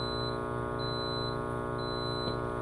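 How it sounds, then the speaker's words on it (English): A Powerjack 15000W split-phase power inverter sounds repeated electronic beeps from low battery voltage, three sustained tones in a steady on-off pattern over a constant electrical hum, loud and close. "if that's beeping because I have low voltage on my batteries"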